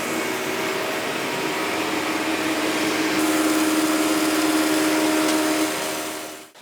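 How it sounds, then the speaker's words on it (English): A Jet JPT 310 helical planer thicknesser feeds wood through with a loud, steady motor drone and cutter whine that stays constant, then winds down at the end. "we engage the drive by releasing that lever so that it will feed the wood through"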